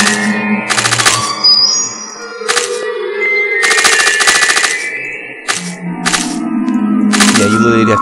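Gunfire from the video game Cyberia 2 crackles in loud, sharp bursts of rapid automatic shots separated by short gaps, with a voice talking faintly underneath.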